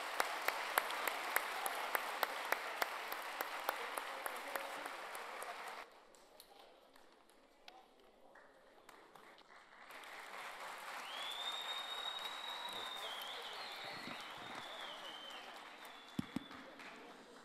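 An audience applauding at an award ceremony as the mayor is called to the stage, with sustained clapping spread through a large hall and a few sharp claps standing out. The clapping eases and then swells again, and faint voices carry underneath.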